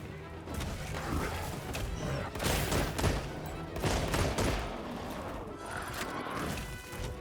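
Heavy gunfire from a very large gun in a monster-hunting video game, dense bursts and impacts that repeat without a break for several seconds, loud and close, with the player talking faintly beneath.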